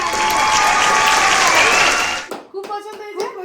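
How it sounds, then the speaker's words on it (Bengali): Applause from a small group at a Bengali chat-show prize giving, a loud dense burst of clapping that stops abruptly, followed by a voice speaking. "হাততালি হাততালি হয়ে যাবে।"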